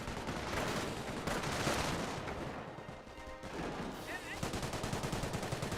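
Machine gun fire from an MMG carrier in the strategy game Company of Heroes, sustained rattling bursts over a busy battlefield din, with a brief lull midway before rapid fire resumes loudly.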